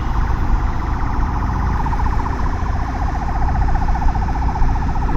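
A wavering ambulance siren rises out of steady traffic rumble, heard from a Yamaha FZS V4 motorcycle, partway through and keeps cycling, fairly close and loud, with no talking.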